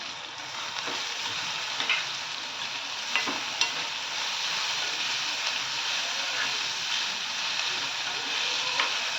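Moong dal is sautéed in oil for Maharashtrian methi bhaji, producing a constant close sizzle with faint stirring taps and scrapes throughout.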